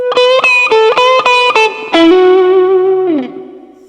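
Electric guitar through a cheap beginner amplifier with heavy distortion and plate reverb, played as a chopped rhythmic figure that ends in a sustained chord ringing out and slowly decaying, loud and close.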